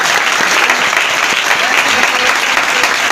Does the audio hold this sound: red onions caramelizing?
no